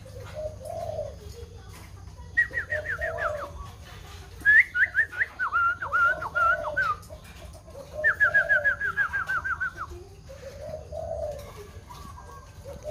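A white-crested laughingthrush kept free-range sings nearby in loud bursts of clear, descending whistled phrases, with softer low hooting notes between the phrases.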